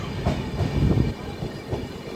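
A passenger train pulls out of Puttur station on the Tirupati to Chennai Central line, its car rumbling low and steady with a slightly swelling roll and faint wheel clatter, heard from aboard with no voices.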